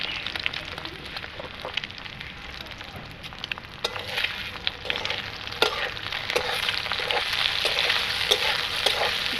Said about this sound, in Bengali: গুঁড়ো গুঁড়ো করে আমি ডিমটা ভেজে নেব